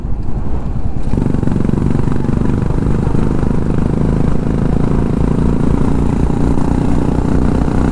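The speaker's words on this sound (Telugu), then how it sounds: "అది BS3 రాయల్ ఎన్ఫీల్డ్ క్లాసిక్ 350 అయినా కానీ దాని పికప్ చూడండి ఎట్లుందో." A BS3 Royal Enfield Classic 350 thumps along on a ride toward Srisailam, its single-cylinder engine giving a loud, steady low-pitched beat that picks up after a brief softer start and holds close and constant.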